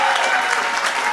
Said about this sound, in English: Let's hear some applause for Jesus